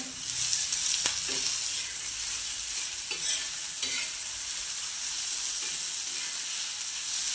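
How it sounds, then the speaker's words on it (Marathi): Onion and ground green chilli frying and being stirred together in a pan, giving a steady close sizzle with occasional scraping stirs for a hot Maharashtrian thecha, no talking. "इथे कांदा परतला आहे त्याच्यामध्ये आपण हिरवी मिरची जी वाटून घेतली होती ती टाकायची आहे"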